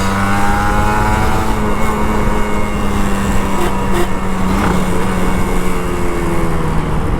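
An old Kawasaki Ninja RR 150 two-stroke motorcycle ridden home from the office, engine droning loudly and steadily close up with wind rush, pitch rising and falling slightly as it accelerates.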